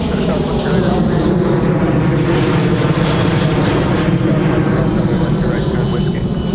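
An airliner roars at Minneapolis–St. Paul airport during departures of flights diverted from O'Hare: a steady, loud, broadband engine rush that holds throughout, with voices faintly audible beneath.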